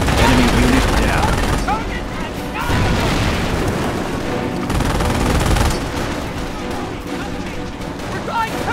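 Gunfire and explosions from the World War II strategy game Company of Heroes at Carentan, with loud booms, rapid rifle and machine-gun bursts and heavy blasts crowding over one another in a dense, continuous battle din.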